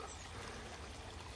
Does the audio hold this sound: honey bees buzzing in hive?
no